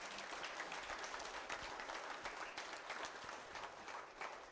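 A church congregation claps hands together during a morning service, steady scattered clapping at a faint level that continues throughout.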